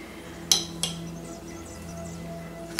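A spoon clinks against a bowl a few times while stirring pepper into a Szechuan sauce, sharp metallic taps near and fairly soft, separated by quiet stirring.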